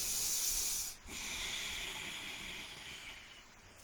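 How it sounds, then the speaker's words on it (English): Nasal breathing with the mouth closed gives an oceanic, throat-constricted hiss, close and steady with one short pause, then a long continuous airy rush. "typically it sounds like that oceanic type of breathing"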